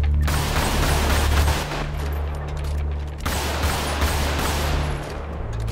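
Sustained automatic gunfire rattles loudly in GTA roleplay, with dense rapid shots in two long bursts separated by a brief dip, over a constant low rumble and no talking.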